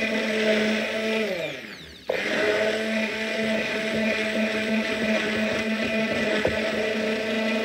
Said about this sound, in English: so this is my hand blender, so I'm making use of it